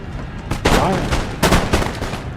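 Musket volleys and artillery fire crack and boom in the battle game Total War: Empire, several loud bursts of gunfire in quick clusters over a rumbling battlefield background.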